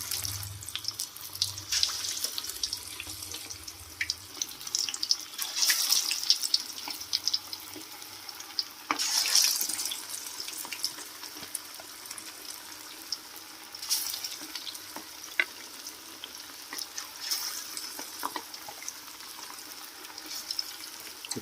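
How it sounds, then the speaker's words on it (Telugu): Chicken lollipops deep-frying in a pan of hot oil give off a steady, close bubbling sizzle with brighter crackling bursts, continuing alone throughout. "కలిపి పెట్టుకున్నటువంటి లాలీపాప్లన్నీ ఈ విధంగా అన్నీ కూడా నూనెలు వేసుకోవాలి"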